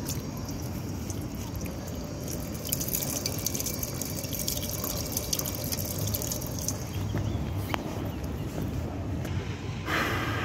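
Water runs steadily from a drinking fountain in Parque Eduardo VII, Lisbon, a continuous close splashing and trickling that fills the whole stretch with outdoor park ambience behind it.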